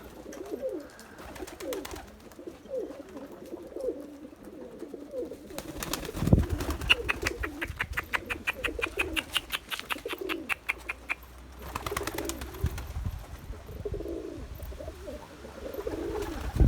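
Pigeons coo repeatedly nearby while pecking at purslane, with soft rhythmic cooing and scattered rapid tapping and fluttering sounds throughout.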